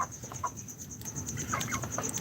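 Pakistani breed laying hens on a farm cluck in quick, soft, irregular calls, close by over a constant hum, with no voices.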